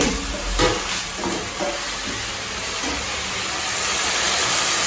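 Drumstick leaves with banana flower and chana dal frying in a pan on lowered heat for a Tamil poriyal, a steady close sizzle and hiss with scraping stirs, rising slightly toward the end.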